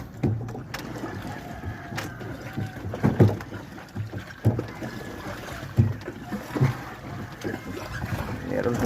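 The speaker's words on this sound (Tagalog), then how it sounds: "yan ang aming pagpapaikot ng aming bangka ay mano-mano lang" Wooden boat turned by hand paddling, with close splashing strokes and knocks of the paddles at irregular intervals, some wind noise, and someone talking over it.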